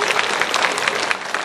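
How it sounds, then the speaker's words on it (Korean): A church congregation applauding loudly and steadily, dense continuous clapping filling the whole moment without a break. "하나님께서 한번 크게 한번 박수 해주시기 바랍니다"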